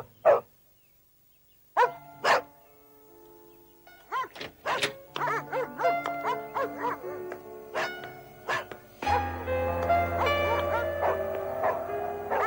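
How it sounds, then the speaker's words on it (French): Several dogs in a room bark in short, sharp bursts, sparse at first and then coming faster and overlapping, close and loud, with a steady background hum building toward the end. "Ne vous occupez pas de ces chiens. Chaque fois qu'on entre dans cette pièce, ils aboient comme ça."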